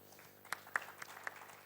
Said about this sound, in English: And a round of applause for that.